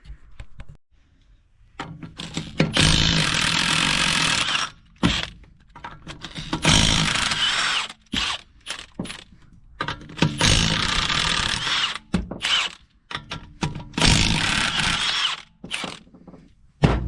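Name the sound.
removing car wheel with tools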